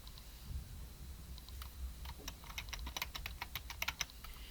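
Close, quick typing on a computer keyboard while entering an author name for a book upload, an irregular burst of light key clicks that grows busier toward the end, with no voice over it.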